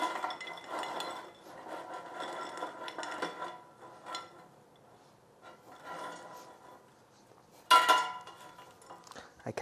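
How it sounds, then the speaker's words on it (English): Crispy food cooked in an Instant Pot Vortex 5.7-quart air fryer and tipped onto a plate: close, light rattling and clattering in short bursts, ending with a sharper clink. "let's dump it all onto our plate"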